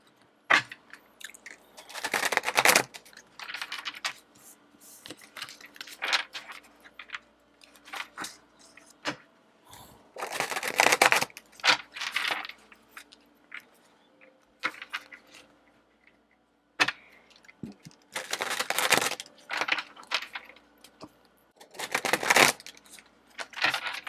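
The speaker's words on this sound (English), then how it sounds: "now shuffle tarot" Tarot cards are shuffled in repeated bursts of crisp riffling and slapping, stopping and starting with quiet gaps between, close up and moderately loud.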